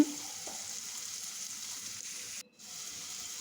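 Garlic hitting hot oil in a pan, giving a steady, loud sizzling hiss that holds evenly with a brief dip near the end.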